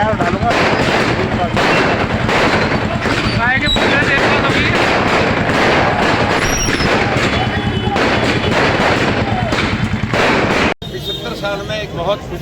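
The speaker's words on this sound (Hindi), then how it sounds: "भाजपा सांसद सुखवीर सिंह जोनापुरिया के नेतृत्व में आतिशबाजी की गई" Dense, continuous crackling and popping bangs of fireworks go off loudly without pause at a celebration in Tonk, with crowd noise mixed in throughout.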